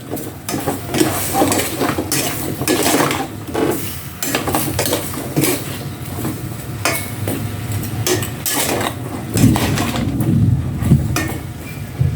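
A utensil clanks and scrapes repeatedly against a pan while chicken is stirred, the loud metallic knocks coming in irregular bursts with a faint sizzle underneath.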